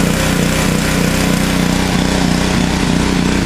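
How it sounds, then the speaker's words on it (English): A pressure washer fitted with a red tip runs nearby, giving a loud, constant buzzing mechanical drone that stays steady throughout. "hopefully you can hear me from the sound of the pressure washer"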